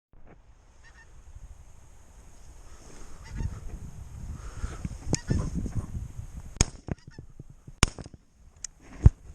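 Pink-footed geese call on a frosty morning during a goose shoot. Their honking swells from faint and distant to a busy chorus, and several sharp, loud cracks like gunshots cut through it near the end.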